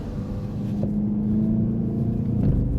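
A VW Golf 8.5 GTI on a warm-up lap of the Nürburgring gives a steady, close engine drone with a sustained low hum and road rumble. It runs continuously and fairly loud, with no talk over it.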